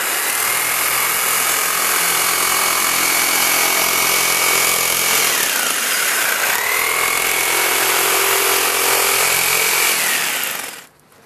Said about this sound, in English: we're going to cut out the handle, the two pieces for the handle